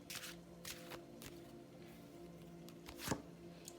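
Oracle cards being shuffled by hand in a quiet room, a series of short papery riffles and taps at an irregular rhythm, close and soft, with no talking.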